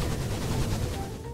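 Continuous automatic fire from a redstone turret in Minecraft, a dense unbroken rattle of shots that stays loud and steady for the whole short stretch.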